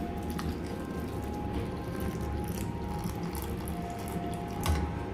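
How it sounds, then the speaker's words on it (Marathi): Milk pours steadily into a metal vessel in a home kitchen while a smoothie is being made, giving a continuous splashing stream that is close and moderately loud. "हे भांडं ह्याच्यामध्ये मी आता ॲड करतो आहे दूध"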